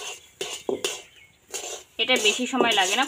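Semolina for gujiya sandesh is stirred in a pan with a metal spatula, giving a few scattered scraping knocks while someone talks, then her speech carries on over the stirring.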